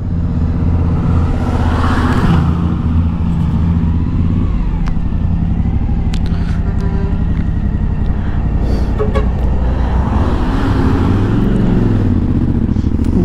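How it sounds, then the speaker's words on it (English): Trucks driving along a winding mountain road in Peru, a steady loud engine drone with tire rumble and a passing horn toot, vehicles swelling close and fading, heard alone without talk. "Look at the trucks."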